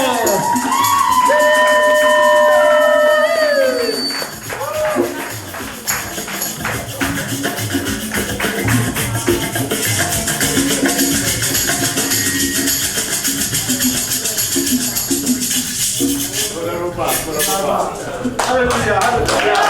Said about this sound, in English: Let's all give them all a round of applause